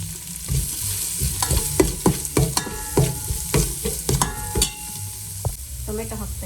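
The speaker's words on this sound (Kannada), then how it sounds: "ಟೊಮೆಟೊ ಹಾಕ್ತಾ ಇದ್ದೀನಿ." Tomato goes into a sizzling pan for a rasam powder bath while a spoon stirs, with close, irregular scraping clacks over a steady frying hiss.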